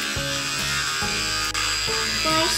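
Electric beard trimmer buzzing steadily while shaving a man's beard and mustache, a close, continuous motor hum whose pitch shifts slightly as the blades press against the hair.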